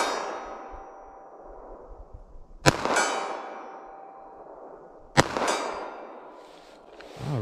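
Two pistol shots from an M&P compact land on a steel target, each a sharp metallic clang with a long ringing decay, spaced a few seconds apart, with no talking.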